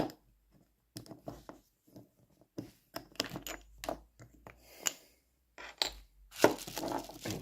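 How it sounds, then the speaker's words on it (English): A wooden stirring stick scrapes and taps inside a small pot of Revell grey model paint at a hobby desk, soft intermittent clicks and scrapes with pauses between, close but quiet, no talking. "And give it a bit of a stir."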